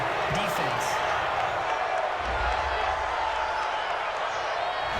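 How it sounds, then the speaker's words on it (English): A packed stadium crowd at an NFL game between the Seattle Seahawks and Carolina Panthers voices displeasure at a referee's call, a loud, sustained roar of disapproval filling the whole stretch with a few sharper outbursts. "Well, this crowd does not like that call."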